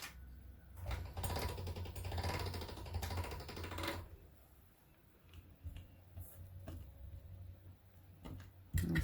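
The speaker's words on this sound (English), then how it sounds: "I'm going to run this through the pasta machine just once at a 0." Polymer clay is fed once through a hand-cranked pasta machine at setting 0, giving a quiet, steady rolling and clicking for about four seconds before a softer stretch with faint ticks.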